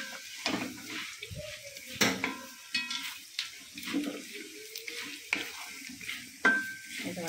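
Peeled peanuts frying in hot oil with ground fenugreek and asafoetida for peanut pickle: a soft continuous sizzle with irregular spoon scrapes and knocks against the pan, close by and moderately quiet.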